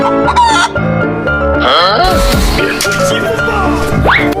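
A rooster crows loudly and close by, several drawn-out calls overlapping with clucking from other fowl, with no talking.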